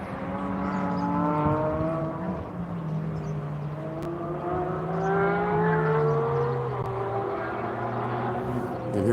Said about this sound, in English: And here comes Tim in his Corvette.